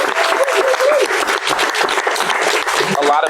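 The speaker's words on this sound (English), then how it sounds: "Yeah, we can clap." Audience at an acting studio breaking into brisk, dense applause, loud and continuous, with a few voices and whoops mingled in.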